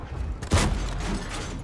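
A tank cannon fires in a War Thunder tank battle: one sharp, heavy boom about a third of the way in, standing out over a steady bed of rumbling game noise.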